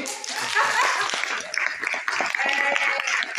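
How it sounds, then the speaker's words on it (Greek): An audience at a presentation of the book 'Η Ζωγράφος' from Dianoia publishers bursts into dense applause, many hands clapping steadily and loudly for about three seconds. "Πάμε άλλο ένα χειροκρότημα."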